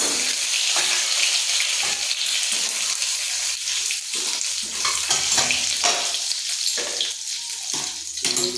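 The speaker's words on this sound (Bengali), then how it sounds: "শুকনো লঙ্কা আর জিরে ফোড়ন দিচ্ছি" Cumin seeds and dry red chillies crackle loudly in hot oil for tempering, a dense, close, steady sizzle with occasional stirring pulses and no voices.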